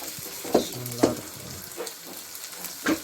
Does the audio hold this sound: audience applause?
no